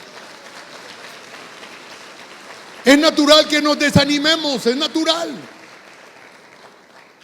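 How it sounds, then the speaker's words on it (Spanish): A church congregation claps in a soft, rain-like wash of applause that fades as a preacher's voice cuts in and talks for a few seconds, then the clapping lingers faintly beneath. "Dale un aplauso al Rey."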